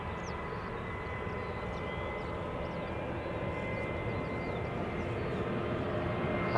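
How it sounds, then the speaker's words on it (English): Transavia Boeing 737-800 departing Schiphol's Polderbaan for Napoli, a steady broadband jet engine roar held at constant strength, slightly swelling toward the end, heard from outdoors without talk. "Next up is Transavia 737-800 going to Napoli."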